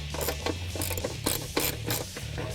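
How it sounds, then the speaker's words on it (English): A ratchet loosens the bolt on the fender apron that holds the airbox of a 2015-2023 Mustang EcoBoost. Close, crisp pawl clicking comes in quick repeated bursts of strokes and stands alone. "Now we can remove the bolt over here on our fender apron that holds the airbox in place."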